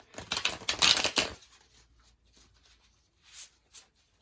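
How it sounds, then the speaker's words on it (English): Tarot cards get one quick riffle shuffle, a close papery flutter lasting about a second, then a near-silent pause with a couple of soft taps as the deck settles. "And last shuffle, and then I will do your Celtic cross."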